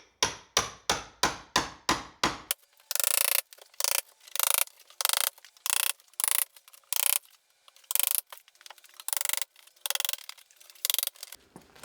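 Butcher block countertop being pried up from a concrete base during a kitchen remodel: a quick run of sharp ratcheting clicks, then repeated short grinding, creaking bursts with brief pauses between, close and fairly loud, no voices.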